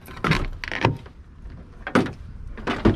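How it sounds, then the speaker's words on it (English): A 2006 Ford F350 truck door clunks open with a couple of heavy latch thuds and creaks, spaced over a few seconds, close by. "Doors open."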